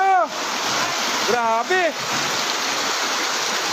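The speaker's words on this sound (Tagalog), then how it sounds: "Rumaragas ang baha na sinabayan ng malakas na buhos ng ulan." Floodwater rushes loudly with heavy typhoon rain pouring down in a constant roar, while a person exclaims briefly over the noise.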